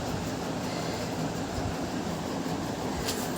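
Steady rumble of a moving passenger train carrying a family, continuous and moderately loud throughout with broadband rolling noise and faint rattles, no voices.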